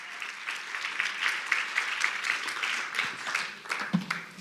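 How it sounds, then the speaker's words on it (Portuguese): A church congregation applauds during a bilingual sermon, a moderate wash of clapping that continues throughout with faint voices underneath. "Dá uma salva de palmas."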